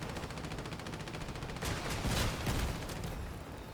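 Weapon volleys fire in the vehicle combat game Crossout as a dense, continuous rattle of rapid shots, swelling into a louder cluster of blasts midway before easing slightly.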